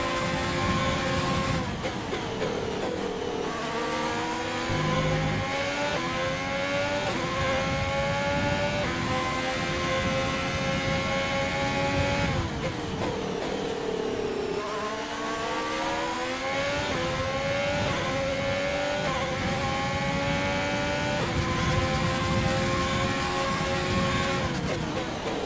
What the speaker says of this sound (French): Utilise le bouton dépassement, on va consommer une partie de l'énergie récupérée.